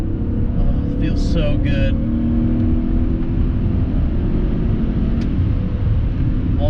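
A BMW 540i V8 on Cooper tires is heard from inside the cabin during a quick hard pull, a loud, steady low engine and road roar throughout, with someone briefly speaking over it.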